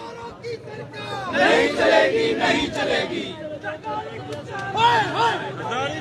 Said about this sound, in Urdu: ابھی نعرے بازی بھی جاری ہے